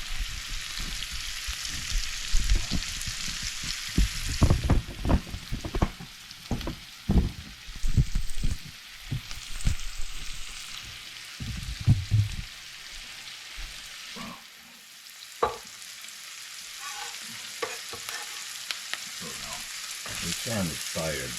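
Onions and garlic sauté in a hot pan: a loud, steady sizzle mixed with scraping and clattering from stirring, easing to a softer, quieter fry in the last few seconds.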